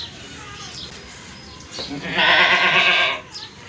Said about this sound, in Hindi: ये देखिए लंबी बेल बकरी है जी